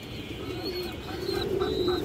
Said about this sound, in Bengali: সিলভার বাঘা মাদি কবুতর